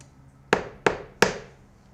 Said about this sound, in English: Did you hear the knock?